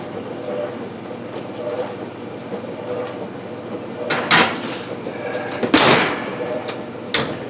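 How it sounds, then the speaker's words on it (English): A kitchen oven door, the oven preheated to 350 degrees, bangs shut in a couple of sharp, loud knocks over low background rumble, followed by a lighter clunk moments later. "And I accidentally slammed my oven door."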